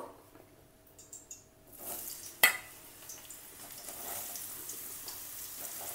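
Soybean chunks frying in a pan, a steady soft sizzle and hiss that rises after a short quiet start, broken by one sharp clink of a utensil, with no talking.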